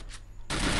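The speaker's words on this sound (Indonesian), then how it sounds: "dia nembak pakai pistol loh" Gunfire in the mobile shooter Free Fire, with a faint spell before a loud burst of pistol shots that cuts in halfway and carries on to the end.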